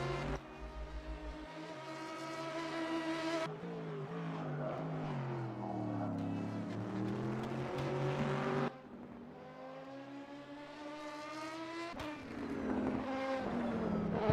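An Oreca 07 LMP2 race car being pushed hard around the Nürburgring Nordschleife during practice for the 12 Hours of Nürburgring, engine note rising and falling through gear changes, loud and sustained with a sharp shift near the end.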